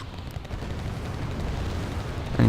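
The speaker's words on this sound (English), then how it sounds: "My guys again make a strafing run, take a few hits" Gunfire from an aircraft strafing run in the Wargame: Airland Battle strategy game, a dense continuous rumble of distant fire and impacts that swells louder in a sharp burst at the very end.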